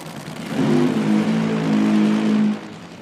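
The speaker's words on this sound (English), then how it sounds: "you can hear Terry's car start to burn out at a normal RPM that it normally would do, and then suddenly increased pretty high" A drag racing car doing a burnout at an IHRA Outlaw Nitro Series elimination event, its engine roaring loudly and close, jumping from a steady rev to a sharply higher pitch for about two seconds before easing off.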